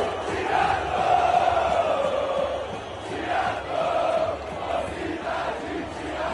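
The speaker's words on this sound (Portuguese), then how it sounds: "a torcida do Botafogo provocando a torcida do Tricolor nas arquibancadas" A large crowd of Botafogo football supporters chants together in the stands, taunting São Paulo fans, a loud sustained roar with rising and falling sung phrases.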